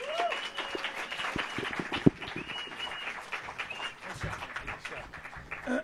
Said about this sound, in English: All right, keep it going for Ryan, ladies and gentlemen.